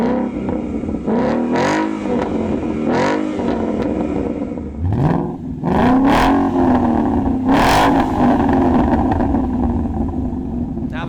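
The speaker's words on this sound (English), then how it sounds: "that is the Roush Axleback exhaust system" A Ford Mustang GT with its 5.0-liter V8 and Roush axleback exhaust revs repeatedly, sharp throttle blips rising and falling into a longer climbing rev and a deep burbling idle, loud and close.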